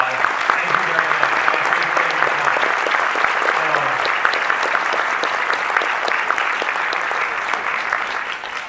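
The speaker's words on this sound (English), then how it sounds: "So I want to give them a round of applause." Audience applause at a tribute event, a loud, sustained burst of many people clapping, with a voice briefly audible under it early on.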